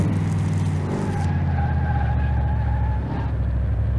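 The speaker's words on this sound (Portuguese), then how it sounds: "esse carro tá catando pneu de terceira" In Car Mechanic Simulator 2018, a car's tires squeal steadily while accelerating hard in third gear, a sustained loud screech riding over a deep, roaring engine drone for the whole stretch, with no talking.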